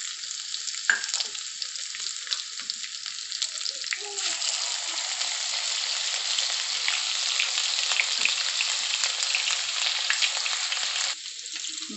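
Ginger garlic paste fries in hot oil for pav bhaji, a loud, steady sizzle that flares up sharply and keeps hissing close by without any talk.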